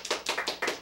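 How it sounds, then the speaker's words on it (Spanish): A few quick, close hand claps at a children's puppet show, about four distinct soft bursts in a brisk rhythm, heard alone and fairly quiet. "Aplausos, por favor."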